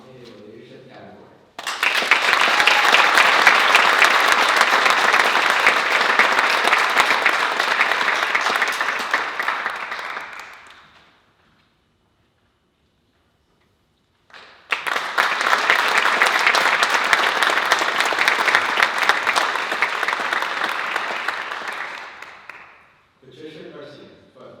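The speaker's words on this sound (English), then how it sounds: "Please join me in applauding Cecilia for being nominated in the leadership category." Audience applause at a youth awards ceremony: two long loud bursts of clapping, roughly nine seconds each, separated by a few seconds of near silence, with faint talk at the start and end.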